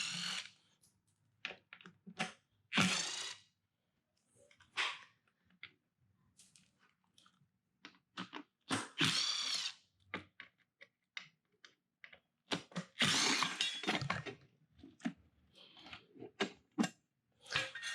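Small 3mm Allen bolts being worked out of trim pieces on a Kawasaki Vulcan S 650 with its front wheel on a stand, giving close, sharp ticking and clicking bursts and scraping tool contacts that come in irregular clusters with quiet gaps between.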